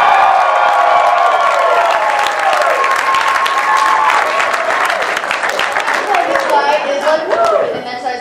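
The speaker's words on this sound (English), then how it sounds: "But you guys were cheering over my 18th." An audience at a Walking Dead comic con panel cheering and clapping, a loud roar of applause and whoops from a large crowd that slowly settles, with voices mixed in.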